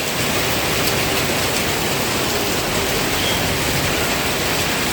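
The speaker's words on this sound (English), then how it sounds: "Well, we've had the rain finally come through." Heavy rain pours down steadily in Thailand in a dense, continuous hiss that stays loud and unbroken throughout, with no voices.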